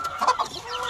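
Kelso gamefowl of the Straight Cardinal Club line cluck on a farm in Hawaii, giving a few short, close clucks in the first half second before the sound fades into a quieter yard background.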